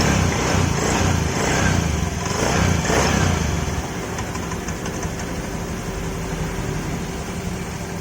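Honda Vario 110 fuel-injected scooter engine firing up on the electric starter, with a loud rough burst for about four seconds that settles into a steady, quieter idle close by.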